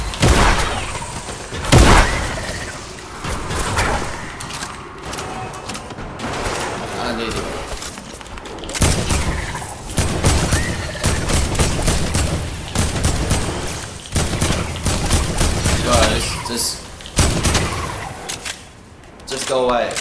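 Dense Fortnite gunfire in Retail Row while fighting zombies: rapid bursts and sustained volleys of shots with occasional heavier thumps, loud and continuous, with a player talking over the action.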